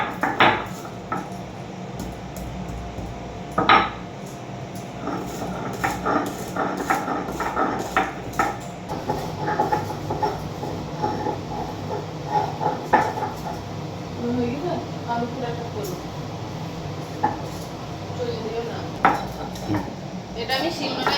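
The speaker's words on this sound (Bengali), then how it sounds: "এবার আমি এটাকে শিলনোড়ায় বেটে নিচ্ছি।" Fried dry spices, including nutmeg and mace, are ground by hand on a shil-nora grinding stone for mutton dum biryani, with irregular knocks, scrapes and rubbing of stone on stone in a kitchen, some sharp clacks standing out.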